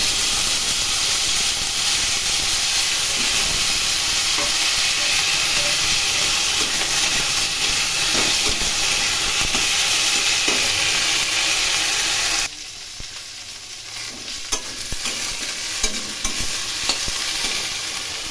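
Whole fenugreek, fennel and nigella seeds with thinly sliced potatoes fry in hot oil, a loud steady sizzle and hiss that drops sharply quieter partway through, then continues more softly with occasional stirring clinks.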